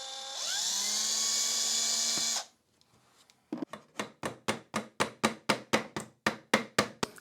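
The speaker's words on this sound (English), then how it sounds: "So I'm just going to pre-drill a small hole so I can drive in the nail a lot easier." A small drill whines at high pitch for a couple of seconds drilling a pilot hole, winds down, then a run of sharp, evenly spaced hammer taps follows.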